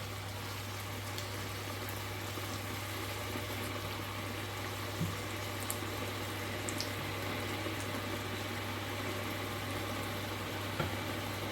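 Pumpkin rice simmering in a pot, a steady low bubbling hiss with a constant hum underneath and an occasional faint clink, unchanging and close without talking.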